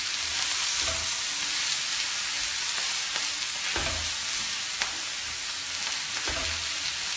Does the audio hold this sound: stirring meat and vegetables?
yes